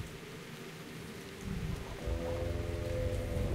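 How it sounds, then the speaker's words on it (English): Rain in the video game Metro Last Light Redux, a soft, continuous patter and hiss of falling water that swells slightly over a few seconds, alone and without speech. "Why is it always raining?"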